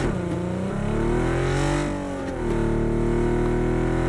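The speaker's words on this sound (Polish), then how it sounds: "Samochód jedzie." A car drives past close by, its engine note rising and falling steadily over a few seconds with no talking.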